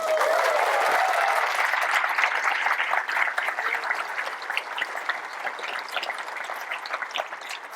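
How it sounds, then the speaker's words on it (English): A conference audience applauds steadily, dense clapping that is loud at first and slowly eases off, with no talking over it. "a big round of applause for him"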